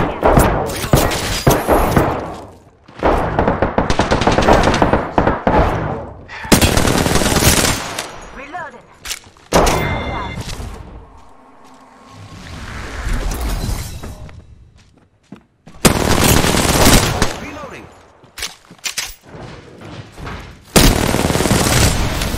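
Rapid automatic gunfire from a first-person shooter video game, in loud bursts of machine-gun fire and fusillades separated by short quieter gaps, with a little speech and game effects in between.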